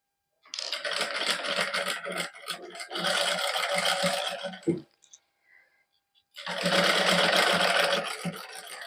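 Sewing machine stitching a garment sleeve, running in steady bursts of rapid rattling stitches separated by pauses, close and fairly loud, with a short stop mid-way before a final run.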